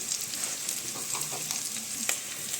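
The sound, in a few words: Alexandrian liver frying in oil with onion and bell pepper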